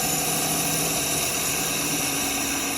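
A continuous high, whining machine drone with steady tonal hum as a lathe spins while a gouge makes a bevel-rubbing cut in apple wood, unbroken throughout.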